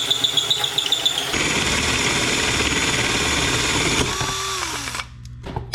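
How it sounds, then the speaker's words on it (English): A Bosch 12V cordless drill bores a hole, its whine steady and loud at close range for about three seconds before winding down and stopping, with a lighter mechanical rattle at the start. "And then just let the drill bit do the cutting."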